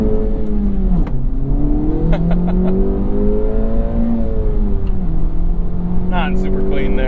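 A 2024 Acura Integra Type S accelerates hard from 0 to 60, its engine note climbing steadily through the gears with brief dips at each shift, loud and continuous, with wind and road noise and some talk over it.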